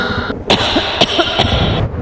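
Several people cough in turn, a few sharp, close bursts spaced about half a second apart over a steady background hum. No one speaks between them.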